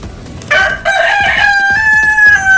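A Jersey Giant rooster crows once, loud and near, a drawn-out strained call starting after a brief pause and lasting about two seconds.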